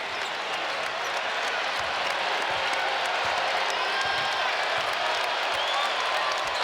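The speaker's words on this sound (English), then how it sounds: "Crowd back into it." A large basketball arena crowd of nearly 18,500 at the Yum Center roars continuously during a Pitt vs. Louisville men's college game, with cheering and applause holding at a steady, dense level throughout.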